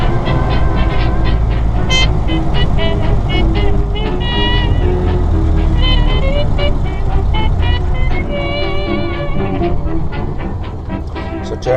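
Ford Model A driving out on a road, a loud, continuous engine rumble and rattle from inside the car with road noise, the pitch rising and falling as it speeds up and shifts gears, and people talking over it.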